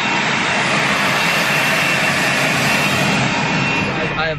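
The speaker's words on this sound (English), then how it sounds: "The jet is right there and it's really loud." A jet aircraft engine roars very loud and close, a dense continuous blast that holds steady for several seconds before easing slightly at the end.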